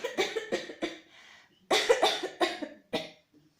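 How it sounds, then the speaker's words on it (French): A baby coughs in a series of short bursts, three quick coughs, a pause, then several more, close and fairly loud, with no talking over them. "Oh, toi aussi tu tousses."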